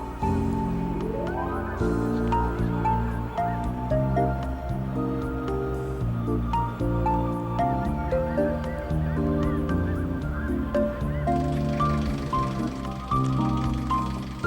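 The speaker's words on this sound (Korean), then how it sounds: "물가에서 여유롭게 쉬며 때로 몰려 비상하는 철새들의 날개짓에" Flock of wintering migratory geese honking continuously on the water, a dense overlapping chorus of calls that stays loud and close throughout.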